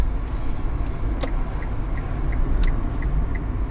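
A taxi car driving through the city of Zhytomyr, steady road and engine rumble inside the cabin with faint periodic ticking like a turn signal, continuous and fairly loud with no talk.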